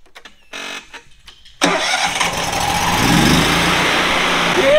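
Engine cranking and catching after fuel priming, a few short bursts followed by a sudden loud start that settles into a steady, close running roar.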